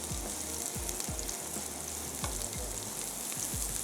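Eggs cooking in a pan with kebab mixture, a continuous sizzle with a spoon scraping and tapping the pan in a loose repeating rhythm, close and steady, with no talk.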